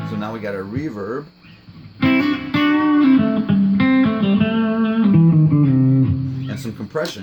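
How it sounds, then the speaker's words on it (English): Electric guitar playing chords and single notes with a reverb wash and compressed, sustained tone, short pauses between phrases. "That's all we got right now is basically reverb and compression."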